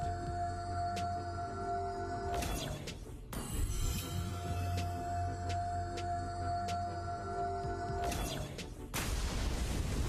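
RORA recoil effect from Hunter x Hunter, a game: sharp, loud synthetic bursts with booming hits, a couple of distinct impacts over a constant droning backdrop, no talking.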